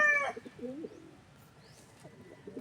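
Soft, low pigeon coos burble a few times against a quiet background, with a brief higher chirp at the start.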